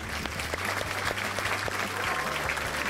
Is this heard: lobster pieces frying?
no